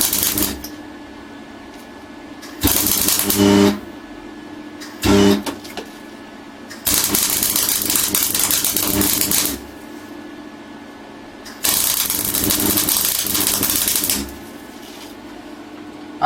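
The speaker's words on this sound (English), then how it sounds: "That's actually welding reasonably nicely now. A little bit splattery" An old MIG welder crackles and spatters in several loud bursts of a few seconds each, with quiet pauses in between, close up and a little uneven.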